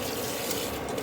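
Tap water runs steadily into a sink while raw chicken is washed, a short continuous splashing rush up close.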